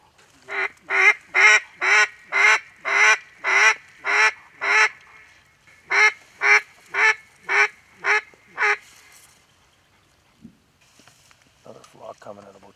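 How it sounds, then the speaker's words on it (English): Loud, evenly spaced quacks ring out over a waterfowl hunting marsh: a long descending run, a brief pause, then a second shorter run, followed by faint rustling and background noise. "The next morning found us back out on the marsh and back in the ducks."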